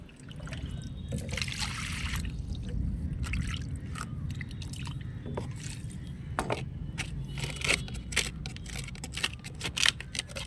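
Water trickles and splashes as cleaned bird cages or birds are washed, with a continuous wet dribble and scattered squishy, clicking handling sounds up close.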